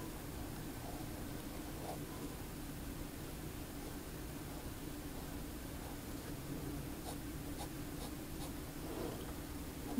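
A Pineider La Grande Bellezza fountain pen with a 14 karat gold flex nib scratches faintly across paper, soft and close, with light scritching strokes over a steady hiss of room noise.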